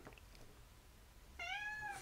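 A single pet cat gives a short, clear, rising-then-falling meow near the end, close and fairly quiet, following a moment of low room hush.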